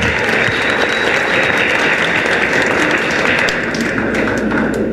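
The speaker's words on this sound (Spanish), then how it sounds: "Un aplauso para William," Audience at a singing contest elimination round claps for a singer, a thick, loud and constant roar of applause filling the whole stretch.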